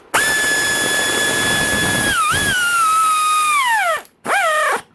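Power driver spinning bolts down on the top end of a KTM 250SXF dirt bike engine, a loud, close, sustained motor whine that dips in pitch as a bolt seats, then stops, followed by a brief second burst.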